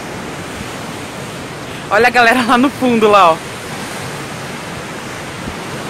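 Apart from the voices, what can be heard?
sea waves crashing on the shore at night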